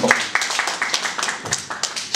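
A press conference audience claps together in a short burst of applause, a dense patter of many hands heard fairly close and loud throughout.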